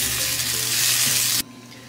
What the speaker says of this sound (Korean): 이렇게 어묵탕도 맛있게 끓고 있습니다